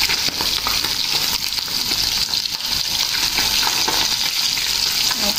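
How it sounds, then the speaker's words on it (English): Mullet fish sizzles loudly in a frying pan as it is flipped, a dense, crackling spatter that stays close and strong throughout, with scraping and clatter from the turn. "let's flip our fish"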